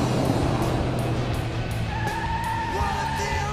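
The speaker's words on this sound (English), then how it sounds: "Good thing they added that sound effect, or I would have just assumed that the car had turned slowly onto that dirt road" Tires squeal in a film as a car turns onto a dirt road, a steady skidding screech over continuous engine rumble, loud and close, with rising tonal whines toward the end.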